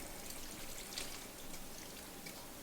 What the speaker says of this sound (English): we're going to pour it straight into our casserole dish